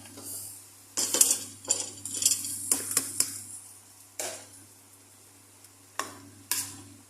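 Potatoes drop into a cooking pot with a series of clattering knocks and scrapes of metal, irregular bursts separated by quiet moments, close and fairly soft in a home kitchen.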